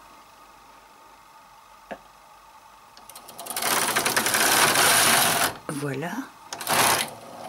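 A domestic knitting machine running on its back needle bed only, a loud rattling carriage pass of about three seconds with clicks and a whirring run, followed by short mechanical bursts, with a brief spoken word earlier.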